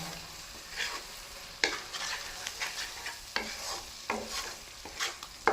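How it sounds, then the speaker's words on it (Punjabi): Tadka masala with homemade garam masala and a splash of water roasts and sizzles in oil in a home Punjabi kitchen, a steady fry broken by repeated scraping stirs of a spoon, close and alone. "ਪਾਣੀ ਪਾ ਕੇ ਤੁਸੀਂ ਤੜਕੇ ਨੂੰ ਲੈਣਾ ਇਹਨੂੰ ਭੁੰਨੋ"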